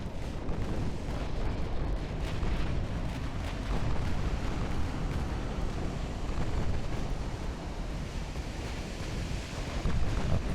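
Naval artillery fire rumbles continuously in Ultimate Admiral: Dreadnoughts, a dense, low, roaring barrage of overlapping distant gun blasts beneath wind-like noise, with no clear individual shots standing out.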